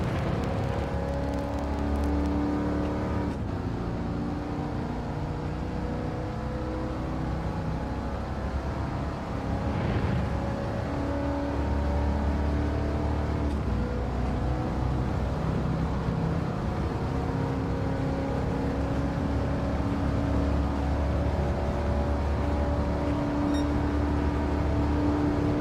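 Race car engine in a racing video game, a steady loud drone with sustained harmonic tones shifting in pitch as it revs, continuous throughout without speech.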